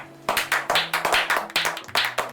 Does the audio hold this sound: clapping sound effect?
yes